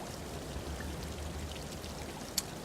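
Steady flowing water in the horror video game Kholat, a continuous soft rushing stream with a faint trickling texture and one brief click near the end, with no talking.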